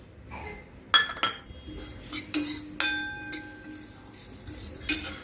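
Melon seeds and garden cress seeds are tipped into a roasting pan, giving a few sharp clinks and scattered rattles against the metal with quiet gaps between.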